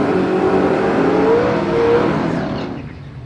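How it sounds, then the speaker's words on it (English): An HQ Holden Premier with a 454 cubic inch big block Chev engine revs hard at a drag strip burnout box, a loud close engine roar with rising pitch that tapers off toward the end. "Big block Chev, 454 cubic inch under the bonnet of that HQ"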